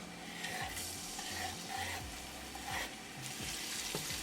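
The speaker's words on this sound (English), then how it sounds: "Cook ginger and garlic for 20 seconds." Ginger and garlic fry in hot olive oil for a vegan sautéed French bean dish, giving a steady sizzle under repeated stirring scrapes, with low background music running throughout.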